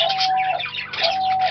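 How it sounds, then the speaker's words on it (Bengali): A small caged diamond dove gives soft tonal calls, two sustained steady notes separated by a brief pause, close and clear with faint background noise and no talking. "ডায়মন্ড ডগ একটি ছোট আকারে সুন্দর ও শান্ত স্বভাবের ঘুঘু পাখি।"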